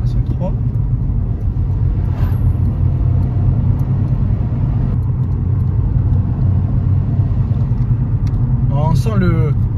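A turbocharged SEAT Ibiza 1.2 TSI engine, tuned to Stage 1 at 140 hp, drones loudly and steadily as it pulls hard under load in third gear, with a whooshing turbo rumble throughout and brief chirps near the end.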